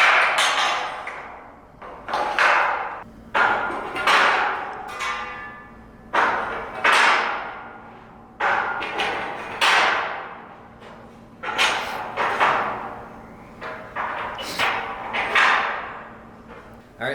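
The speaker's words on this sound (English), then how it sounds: "you're going to take your canopy bows and we're going to start placing them on the pegs on each side" Canopy frame bows being set onto the side pegs of a DAKA canopy frame, giving a string of sharp clanks and thumps with ringing metallic decay, repeated every second or two at close range.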